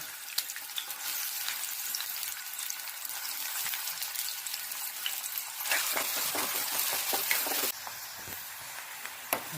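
Chopped onion frying in a hot oil tempering for a ridged gourd vegetable dish, a steady close sizzle that swells louder midway as more goes into the pan, with occasional stirring clinks.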